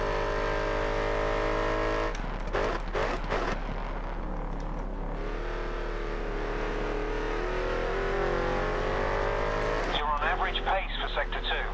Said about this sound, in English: the S2000 is a very top-end heavy car as far as the engine goes